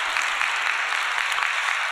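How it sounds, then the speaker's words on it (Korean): A church congregation applauds during a worship service, steady broadband clapping filling the space at moderate level without pause, no voices standing out above it. "여러분 한번 다시 한번 박수 한번 해주시기 바랍니다."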